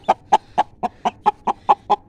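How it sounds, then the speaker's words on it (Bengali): A rooster and hens cluck in a steady, evenly spaced series of about nine loud, close calls, each a short sharp burst with quiet pauses between, no talking. "এই তো মোরগটা এখানে রেখে দিছি"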